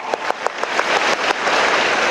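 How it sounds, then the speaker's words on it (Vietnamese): Applause from a church congregation at a First Communion Mass, starting with a few distinct claps that quickly swell into steady, dense clapping filling the space. "cho con một tràng pháo tay thật to"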